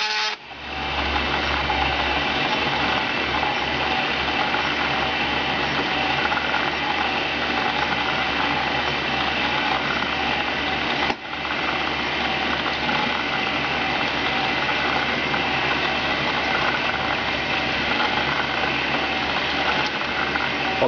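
A homemade CNC coil winder built from leftover parts runs continuously with a steady mechanical whir and faint ratcheting hum, unbroken apart from one brief click midway, with no voices.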